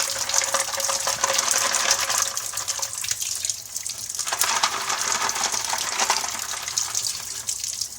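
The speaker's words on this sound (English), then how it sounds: "you just want to lightly rinse it off with water" Running water splashes steadily over aquarium canister filter media being rinsed, a continuous gushing spray with slight shifts in flow.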